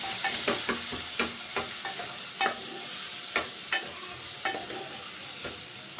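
Browned onion and tomato stirred and fried together in a pan at home, a constant hissing sizzle punctuated by scattered soft clicks and scrapes of the spoon, close, with no speech.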